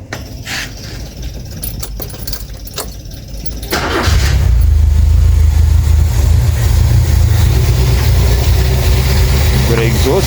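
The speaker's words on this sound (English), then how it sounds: "Start her up." A Renault 5 with an exhaust leak starts after a few seconds of quiet clicks and handling, then settles into a loud, steady, rough idle nearby.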